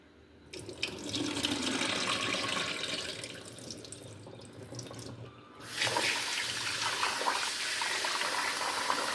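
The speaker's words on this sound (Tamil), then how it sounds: "தண்ணியை கீழே ஊற்றிட்டேன்." Water from washed lentils is poured out in a home kitchen while a traditional Tamil pongal breakfast is made: a steady splashing pour that grows louder and fuller partway through, with no talking.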